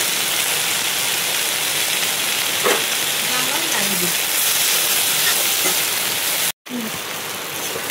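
Dhekia fern greens fry in a pan with a loud, dense, continuous sizzle, like steady rain. A brief cut in the sound comes near the end.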